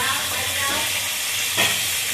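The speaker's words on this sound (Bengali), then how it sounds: "আমি এদিকে মাছ ভাজা বসিয়েছি" Fish sizzles in a frying pan in a steady, bright crackle of hot oil, close and continuous, with a brief spatter or clink partway through.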